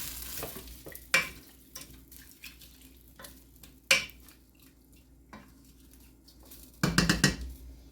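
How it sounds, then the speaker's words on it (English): Ingredients for a meatball stew stirred in a Dutch oven after butter has cooked: scraping spoon strokes and clanks against the pot, with a few louder knocks, over a low background hum. "Mixing on the Dutch oven. Go ahead and mix everything in it."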